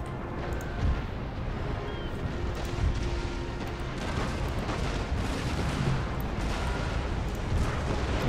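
Naval cannons firing chain shot at sailing warships' masts in the Empire Total War game, a dense continuous barrage of booming broadside shots over a rumbling battle bed, steady and loud throughout with no talk.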